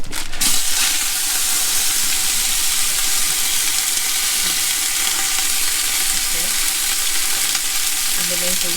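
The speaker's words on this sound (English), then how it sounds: "So when you fry it, hardly any oil comes out." Lean ground beef, about 12% fat, frying in a pan, giving a steady, loud, close sizzle that holds evenly throughout with no talking.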